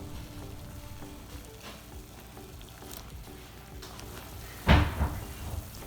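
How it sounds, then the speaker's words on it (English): A pot of water bubbles and sizzles faintly on high heat while pizza is boiled in it, with a soft clatter and one louder knock of pot or lid near the end. "the best method, my favorite method, is boiling pizza"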